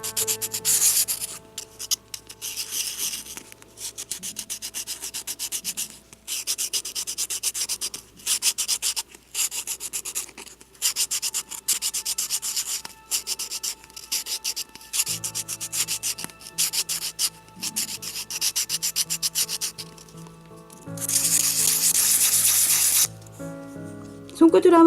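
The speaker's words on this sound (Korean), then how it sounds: "사포를 사용해서 원을 그리듯이 면을 매끈하게 하는 작업을 해주세요" Sandpaper rubs in circles over the surface of a miniature handmade bowl, producing close, repeated gritty scratching strokes in short bursts separated by brief pauses, with a louder, steadier rasp near the end.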